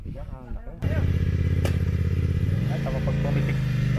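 A 900cc motorcycle engine starts up close by and settles into a loud, steady idle with a deep throbbing rumble and a slight shift in pitch partway through.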